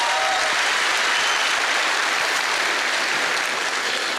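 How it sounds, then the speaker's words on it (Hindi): Dense, loud applause from a large audience at an event at Talkatora in honour of a guru, a continuous roar of many hands clapping throughout without letting up. "जोरदार तालियां महागुरुजी दिलीप चौबे सर जी के लिए।"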